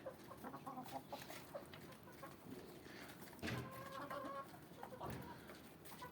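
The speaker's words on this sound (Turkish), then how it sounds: "bu Wyandotte tavuğu, e, siyah beyaz horozu bunlar" Wyandotte and mixed-breed chickens cluck and a black-and-white rooster calls now and then over a busy farmyard murmur, the birds close and moderately loud.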